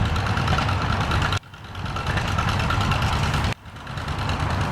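Tractor engine idling at a steam-era show, a steady mid-pitched chugging drone heard up close and fairly quiet, cut by two brief dips in level.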